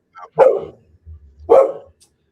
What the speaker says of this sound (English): So sorry about the dog barking, guys.